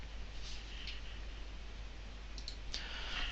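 Mouse clicks on an owner login button on a web page, a few faint, sharp clicks spread over a few seconds against a low steady hum.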